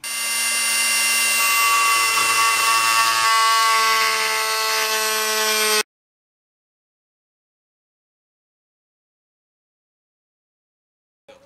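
A power saw cuts wooden wheelbarrow handles in a workshop, giving a loud, steady, high-pitched whine that runs for several seconds and then stops abruptly, leaving silence.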